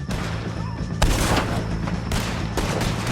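Gunfire in Red Dead Redemption 2 during a shootout with O'Driscolls, loud close shots and bursts cracking in a rapid irregular fusillade with a sharp blast near the middle.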